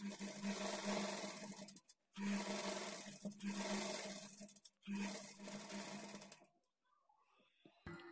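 A sewing machine double-stitches a lining blouse, running in three steady motorized bursts separated by short pauses, close and fairly loud, then stopping near the end with faint handling sounds.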